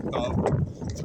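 Strong 50 mph north wind gusts buffet the microphone outdoors on a slope, a loud, continuous low roaring rumble that swells and dips briefly.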